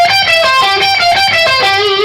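Distorted electric guitar lick in a rock sequence style, two added notes leading into a repeating four-note pattern, played loud and steady with a sustained, harmonically rich tone and no talking.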